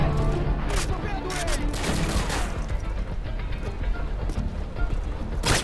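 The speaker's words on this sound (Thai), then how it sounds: "มันยิงไม่หย่อน" Rapid bursts of Call of Duty: Modern Warfare 2 gunfire crackle in dense volleys, with sharp shots and impacts stacking over one another throughout.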